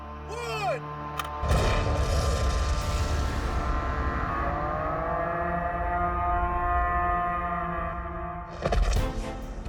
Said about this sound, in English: you'll see what kind of explosion we can expect from this